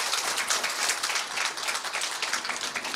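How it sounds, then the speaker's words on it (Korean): Steady applause from an audience at a town civic dialogue with the mayor, dense and even clapping at a moderate distance with no talking. "다시 한번 큰 박수 부탁드립니다"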